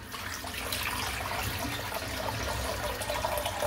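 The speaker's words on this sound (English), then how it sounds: "let's put a bit of water into the sink" Tap water runs steadily into a bathroom sink during a head and face shave, a continuous broadband splashing rush at close range with no talking.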